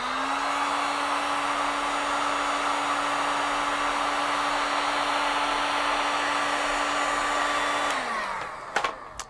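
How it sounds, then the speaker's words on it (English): A heat gun blows hot air onto a thermocouple, a steady close whirring hiss with a constant motor whine that holds for about eight seconds, then winds down, followed by a few light clicks. "let me apply some heat using the heat gun"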